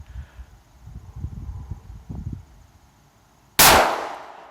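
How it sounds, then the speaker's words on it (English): A single sharp gunshot rings out, its blast spreading and decaying with a ringing steel tail from a swinging steel plate target, preceded by quiet outdoor rustling and handling noise. "I am going to go ahead and I'm going to shoot again."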